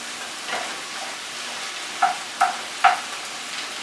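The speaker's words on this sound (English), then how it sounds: "just browning the meat" Meat browns in a frying pan for breakfast egg muffins, a soft steady sizzle broken by three or four sharp scraping stirs or turns of the food, fairly close and with no talking.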